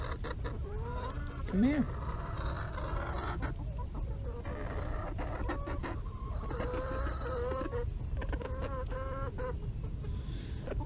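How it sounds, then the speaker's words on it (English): Backyard hens in a food forest clucking and murmuring close by, with short rising calls and soft chatter scattered across the stretch, and a person briefly speaking near the start. "chickens are doing well."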